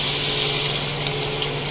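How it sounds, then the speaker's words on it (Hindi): Water poured into a cooking pot of browned bottle gourd (lauki) for a chana dal curry, about a cup added: a steady, close, loud wash of gushing liquid that runs unbroken with no talking. "तकरीबन 1 कप मैंने इसमें पानी शामिल किया है"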